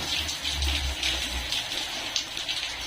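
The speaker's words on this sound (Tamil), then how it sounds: "இப்பவும் இப்படி மழை பெய்யுது." Rain falls steadily, an even, close wash of patter with no voices, holding at constant level throughout.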